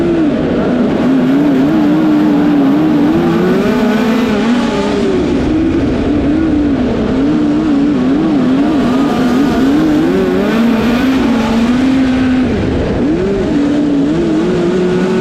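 Dirt-track race car at a big winter race, its engine loud and close throughout, held at a steady, wavering pitch with small throttle swells rather than full revving, continuous for the whole stretch.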